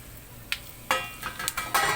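Dried red chillies and tamarind hit a heated pan for frying, giving soft crackling sizzle with several sharp clinks and scrapes of a utensil against the pan, fairly quiet and close, with no talking.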